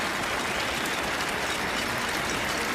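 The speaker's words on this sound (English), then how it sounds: "a round of applause from Ottawa fans here at TD Place" Ottawa football fans at TD Place applauding during a CFL game between Winnipeg and Ottawa, a steady wash of clapping from a large crowd that holds evenly throughout, broad and diffuse with no voices standing out.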